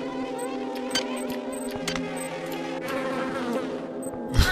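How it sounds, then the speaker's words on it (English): A swarm of bees buzzes in the video game System Shock 2, a dense, steady droning hum broken by sharp clicks and knocks and a louder thump at the end. "You're so chill about the bees."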